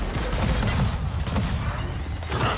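Constant heavy gunfire in a video game horde battle, a dense unbroken roar of overlapping shots and blasts filling the whole stretch, loud and close with no clear gaps.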